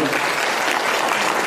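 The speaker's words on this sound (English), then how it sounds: "And a big round of applause for our panelists." An audience at an immigration forum claps for the panelists in a dense, steady wash of applause that fills the whole moment at a constant loud level, with no talk rising above it.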